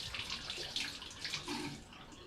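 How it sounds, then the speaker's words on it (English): Navage nasal irrigation nose piece rinsed under a running tap, a steady close hiss of flowing water splashing over plastic, alone without talk. "Rinse this thoroughly."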